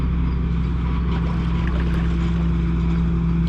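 A steady, droning harvester engine hum with a low rumbling tone runs continuously throughout, fairly loud and unchanging, heard near the Saikkalanjoki river in Finland.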